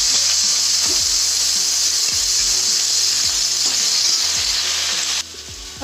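Vegetables sizzle and crackle loudly in a hot pan with dried chillies, with intermittent scraping and stirring knocks over the steady frying hiss.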